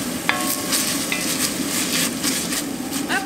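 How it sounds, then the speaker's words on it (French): Onion and garlic sizzle in hot olive oil in a cast-iron pot, a steady close frying hiss with a few brief clinks of stirring utensils and no voices. "j'ai réchauffé ma cocotte en fonte avec de l'huile d'olive et j'ai mis mon oignon et mon ail."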